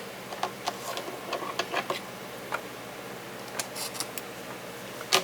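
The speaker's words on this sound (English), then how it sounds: "And then I'm gonna stop and cut my threads." Scissors snip sewing threads, a scattered series of small, sharp clicks close by, some in quick pairs, against a quiet room with no talking.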